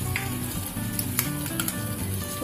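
Onions spread into half a spoon of hot oil in a pan, sizzling and frying loudly and steadily throughout, with a few brief scraping stirs and no talking.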